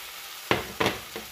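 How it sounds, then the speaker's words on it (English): Green peas drop into a hot pot with broccoli for soup, making three quick sizzling bursts in succession, close and fairly soft, with a faint hiss between them and no talking. "we're gonna go in with the green peas"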